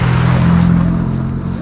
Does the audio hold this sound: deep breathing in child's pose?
no